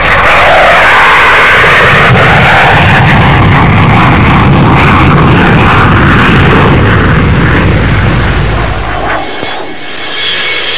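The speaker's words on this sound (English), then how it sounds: "the flying display is the two-seat Lightning powered by two Rolls-Royce turbojets with reheat" A two-seat English Electric Lightning with two Rolls-Royce turbojets and reheat makes a flying display pass, a very loud, close, roaring jet engine that surges and sweeps in pitch before cutting off sharply near the end.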